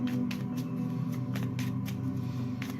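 Soft, quick riffling bursts of tarot cards being shuffled recur every half second or so, close by, over a steady low hum.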